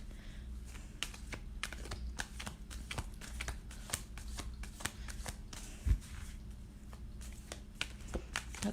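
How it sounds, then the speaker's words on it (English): Playing cards being shuffled and cut in a series of crisp, repeated riffling snaps, close and fairly quiet, with one sharper knock near the end. "We're going to do some card chopping here."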